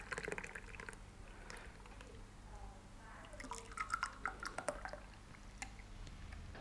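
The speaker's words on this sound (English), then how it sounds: "I'm going to transfer this juice into tumblers." Freshly made juice is poured from a food processor into tumblers, giving soft liquid trickles and drips against a low background hum, quiet and close.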